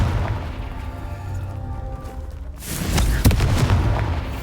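Confringo fire spell from the Hogwarts Legacy video game, heard as a deep booming blast that swells near the end over a steady low rumble.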